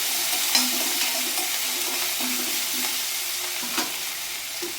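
Curry leaves and coriander sautéing in a pan for varagu rice sambar rice, with a steady soft sizzle and occasional stirring scrapes, close by and without voices.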